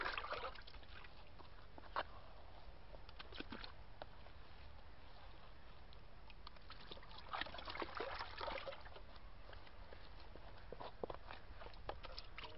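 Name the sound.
seed paste being mixed into 200 litres of water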